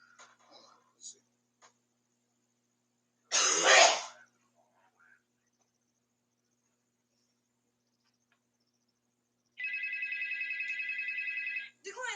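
A phone rings with an incoming call, one sustained buzzing trill lasting about two seconds after a quiet stretch. Before it comes a short loud burst like a cough or throat clearing, along with faint scattered clicks.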